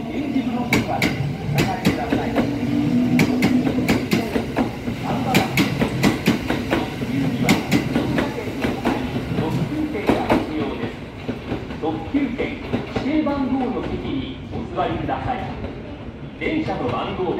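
A Kintetsu 1252 series set coupled with a 9020 series set pulls out of Yamato-Saidaiji station, a steady rolling rumble with rhythmic clicking wheel joints; a station announcement plays over it.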